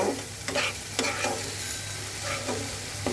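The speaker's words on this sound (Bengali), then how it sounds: "এর মধ্যে দিয়ে দেব কাঁচামরিচ এটাকে আরও মিনিট তিন থেকে চার মিনিট আমি এটাকে ভেজে নেব" Green chillies frying in a pan with a steady sizzle, broken by several scraping stirs of a spoon against the pan, close and continuous without speech.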